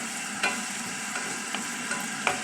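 Chicken curry ingredients being stirred in a pan, a soft steady sizzle broken by several distinct spoon scrapes spaced about a second apart, with no talk.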